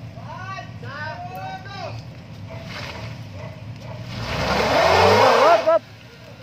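A Nissan X-Trail straining on a muddy mountain track, the engine rising into a loud, sustained revving roar before cutting off abruptly, with voices talking over the low idle beforehand.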